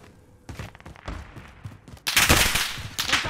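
Gunfire in the video game Call of Duty: Modern Warfare Rebirth: scattered thuds and sharp shots at first, then a dense, loud burst of rapid fire in the second half.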